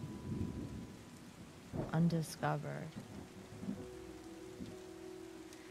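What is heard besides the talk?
thunder and rain from the video game Terra Nil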